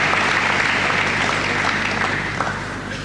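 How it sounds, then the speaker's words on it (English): An enthusiastic crowd claps at a 1991 world climbing championship in Frankfurt, Germany, a dense, sustained wash of applause from many hands, loud and continuous, slowly easing toward the end. "Very enthusiastic crowd in Germany. They tend to clap a lot"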